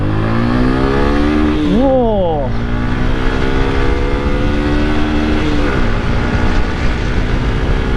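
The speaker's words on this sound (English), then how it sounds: "It has a nice and sporty exhaust note as well." A Suzuki Gixer motorcycle's sporty exhaust is revved up close, its pitch climbing and falling sharply over a steady engine drone, while a voice briefly exclaims.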